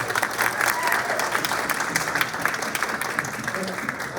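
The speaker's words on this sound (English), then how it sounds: "Just want to give a big round of applause for all of these." Audience applause for a home building panel, close and fairly loud continuous clapping with a few murmuring voices underneath, steady over a few seconds.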